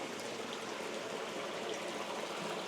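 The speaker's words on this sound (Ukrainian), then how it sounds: "на мене з усюди капає вода" Water dripping and trickling from above in a damp, sponge-like old shower room, a soft continuous spatter and patter, fairly faint and even, with no voices.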